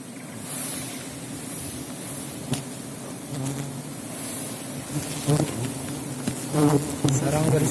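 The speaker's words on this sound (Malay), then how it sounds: "ini semua lebah semua ya" Dense swarm of wild forest honey bees in Aceh droning steadily and close during a honey harvest, a thick continuous buzz with a few louder passes near the ear and faint voices underneath.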